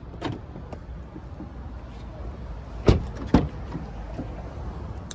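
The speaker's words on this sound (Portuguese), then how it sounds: "O vidro elétrico atrás" The rear power window of a 2024 Ford Ranger XL pickup runs as a faint, steady motor hum inside the cab, with two soft thumps partway through.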